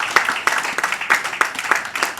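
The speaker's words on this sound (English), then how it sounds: "Please, another resounding round of applause for her." Applause at an exhibition and book launch, with many hands clapping in a dense, steady patter, close and loud, for a couple of seconds with no voice standing out.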